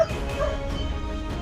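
A dog barks and whimpers in short yips from some distance, fairly faint beneath a low household rumble.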